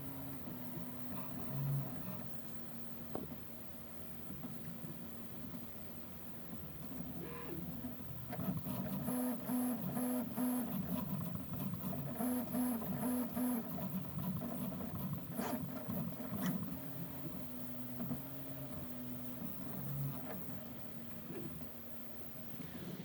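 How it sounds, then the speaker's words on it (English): A Prusa Mark III 3D printer at work, heard from nearby as a soft, continuous whir of stepper motors with shifting tones and rhythmic patterns, a fan hum underneath, and no talking. "I'll put the microphone in the vicinity of this printer as well, so you can get an idea of how it sounds."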